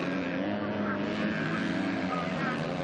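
Motocross motorcycles in a women's world championship race in Portugal roar past in a steady, loud engine drone that fills the whole stretch, with a commentator talking over it.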